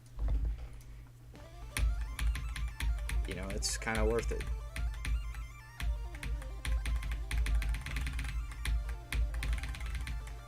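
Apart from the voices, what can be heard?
typing on a computer keyboard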